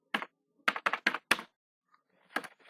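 Keystrokes on a computer keyboard while a web address is entered in a browser tab: a quick, close run of crisp clicks, a short pause, then another small cluster of taps.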